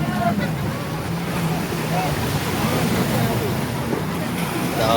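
Steady rumble of a jet ski over choppy sea at Pattaya, with constant engine drone, wind buffeting and splashing waves, loud and continuous throughout.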